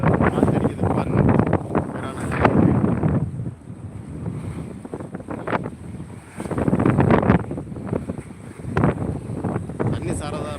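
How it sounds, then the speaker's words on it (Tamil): Strong wind buffets the microphone in heavy gusts over Veeranam Lake, with water lapping in the background and someone talking over the roar. "காற்று எந்த அளவுக்கு அடிக்குதுன்னு பாருங்கள்"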